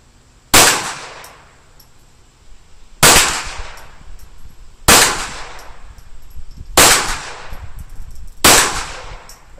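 Five sharp shots from a target pistol at an outdoor gun range, evenly spaced about two seconds apart, each a loud crack with a short ringing decay, and no voices.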